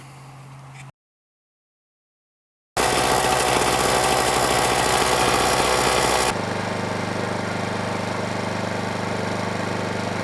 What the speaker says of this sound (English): I'm going to show you this one on the eco mode, where it quiets the generator down quite a bit